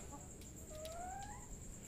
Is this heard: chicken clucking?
yes